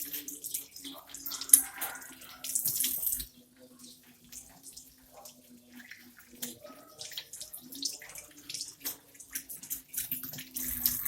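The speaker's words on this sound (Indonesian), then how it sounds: "Setelah itu bilas sampai bersih dengan air mengalir." Running tap water splashes steadily as hands are rinsed under a faucet, a continuous soft gush with fluctuating splatter, close by and fairly quiet throughout.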